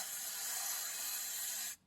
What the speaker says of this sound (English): going to spray this down.